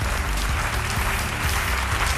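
A television studio audience on a French midday talk show claps loudly and continuously as a guest, Salif Koulibaly, is welcomed, a dense, even wash of applause with no break.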